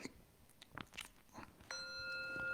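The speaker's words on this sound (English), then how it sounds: "can hear that beautiful little bell" A small bell is struck once and rings on with a clear, sustained shimmering tone, following a few quiet soft clicks and rustles.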